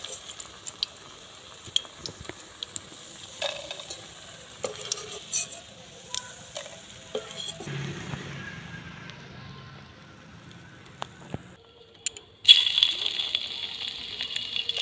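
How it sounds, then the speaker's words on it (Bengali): Mushroom pakoras fry in hot oil, heard as a low, soft sizzle with scattered clinks and scraping of a utensil, then a louder, brighter hiss as more battered pieces drop into the oil near the end. "এক এক করে আবার তেলের মধ্যে দিয়ে দিচ্ছি"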